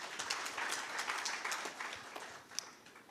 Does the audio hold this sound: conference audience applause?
yes